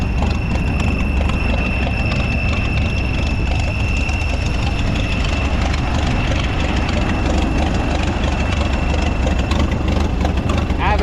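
A vintage farm tractor at a show runs loud and steady at close range, its heavy low engine drone continuous throughout with a voice faintly over it.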